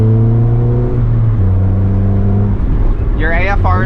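A K24-swapped Mazda MX-5 Miata engine holds a loud, close, steady drone whose pitch shifts partway through; people talk briefly over it near the end.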